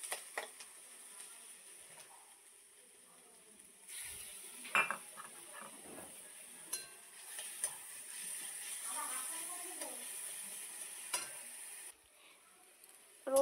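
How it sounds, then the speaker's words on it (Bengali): Garlic and onions fry in a pan with a quiet, steady hiss, broken by scattered scraping and tapping clicks as they are stirred. "রসুন আর পেঁয়াজ ভাজা হয়ে গেছে"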